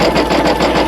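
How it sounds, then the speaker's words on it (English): Single-needle embroidery machine stitching a heavy satin fill over a denim appliqué heart patch, a fast, even, continuous mechanical chatter heard up close. "now it's filling it in with the nice heavy satin stitch"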